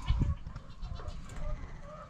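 Exotic sheep bleat a few times close by over rustling farmyard noise during vaccinations and hoof trimming, with low thumps and scuffling throughout.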